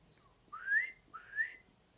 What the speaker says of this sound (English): I wonder what kind of bird that is. I keep hearing that.